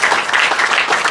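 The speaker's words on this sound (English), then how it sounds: "Can we all give Josh a big round of" Applause rises from an audience at a men's health event for club legend Josh Reynolds, a former St George Dragons player. It is a loud, close burst of dense clapping, very brief, with no talk heard over it.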